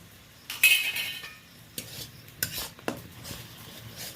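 Ginger paste being stirred into onions, tomatoes and green chillies in a pan: a faint low sizzle under several distinct spoon scrapes and clinks against the metal, spaced out and close.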